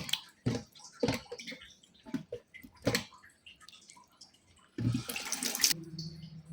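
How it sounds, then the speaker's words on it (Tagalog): Hot water splashes and pours in short bursts, then a steadier gushing stream near the end, heard close up in a quiet room. "Lagyan ko lang ng mainit na tubig."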